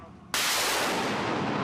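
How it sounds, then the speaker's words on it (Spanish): Artillery firing at a front line in Ukraine, a single sudden loud blast after a quiet moment, followed by a sustained broad roar as the report rolls out and slowly fades. "Los hombres apuntan y disparan."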